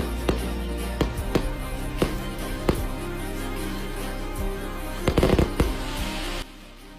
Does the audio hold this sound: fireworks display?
yes